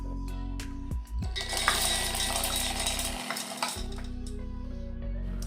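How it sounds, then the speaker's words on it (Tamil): Roasted gram pours into a mixer grinder jar as a loud, rattling shower of hard little pieces that lasts a couple of seconds, framed by brief clinks and a low steady hum. "இப்போ பொட்டுக்கடலையை அப்படியே நான் வந்து அதில் ஆட் பண்ண போகிறேன்."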